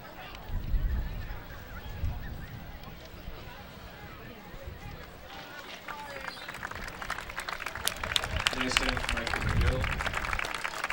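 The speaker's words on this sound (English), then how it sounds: "he gets a nice hand from the crowd here" Crowd at a high school football game between Tartan and Benilde-St. Margaret's applauding an injured player as he leaves the field, scattered clapping building toward the end beneath continuous commentary.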